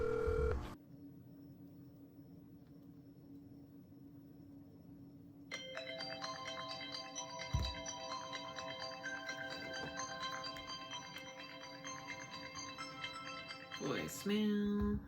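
A phone rings repeatedly with a bright electronic ringtone, melodic tones cycling for several seconds before cutting off into a voicemail beep, with a low background hum throughout.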